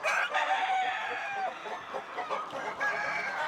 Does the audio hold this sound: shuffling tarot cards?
no